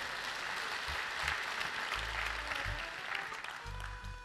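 Audience applause at a live concert hall show, a dense steady wash of clapping that holds at moderate loudness throughout with no voices.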